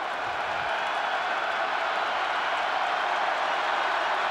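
A stadium crowd at a college football game makes a steady, broad roar that holds at one level throughout, with no single voice standing out.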